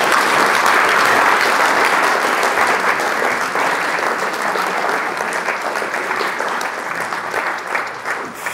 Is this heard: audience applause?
yes